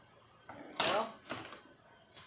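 A spoon stirs thickening hamburger-steak gravy in a pan, making a few quiet metallic scrapes and clinks in short bursts, close by, with faint background room noise.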